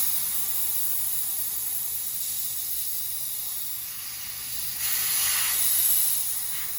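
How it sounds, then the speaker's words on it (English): Compressed air hissing steadily from an air compressor and SCBA bottle cascade system as a valve is slowly opened, a continuous broad hiss that swells louder toward the end. "we can slowly relieve the pressure by turning the valve counterclockwise"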